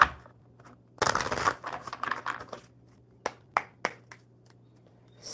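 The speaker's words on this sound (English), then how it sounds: "One more good shuffle for Hope." A deck of cards being shuffled, a dense riffle burst followed by scattered sharp snaps and taps, close and fairly quiet against a faint steady hum.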